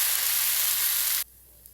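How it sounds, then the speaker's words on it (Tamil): Dosa batter hits a hot oiled griddle with a loud, hissing sizzle up close that holds steady, then cuts off abruptly to near silence, followed by one faint tick. "கொஞ்சமாக எண்ணெய் தடவிட்டு நம்ம இந்த மாதிரி கொஞ்சமாக மாவு எடுத்து ஊற்றிட்டு நம்ம ஸ்ப்ரெட் பண்ணிக்கலாம்"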